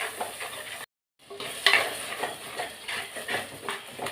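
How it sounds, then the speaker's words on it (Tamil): Bitter gourd masala being stirred in a pan, with soft scraping and faint sizzling in steady strokes and a brief pause partway through, no voices. "அதுக்குள்ளே இதை கொஞ்சம் கிளறி விட்டுறோம்."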